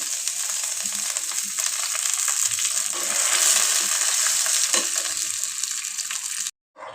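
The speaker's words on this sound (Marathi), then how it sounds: "आपला पाक उकळतोय अजून" Jaggery syrup boiling in a pan for sesame laddoos, a steady, close bubbling sizzle lasting several seconds before stopping abruptly.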